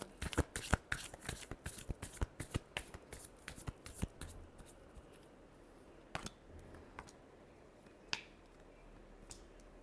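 Tarot cards are shuffled in a rapid flurry of crisp riffling snaps, close and bright, then a few isolated card taps after a pause.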